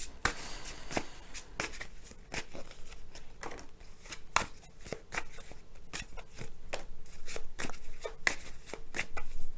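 Osho Zen tarot cards being shuffled by hand, a quiet run of crisp riffling slaps and flicks repeating irregularly at close range.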